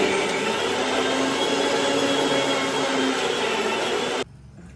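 A mixer grinder whirs steadily and loudly at close range, grinding masala paste for prawn biryani in a home kitchen, then cuts off abruptly near the end.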